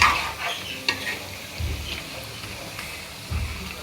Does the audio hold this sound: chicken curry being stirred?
yes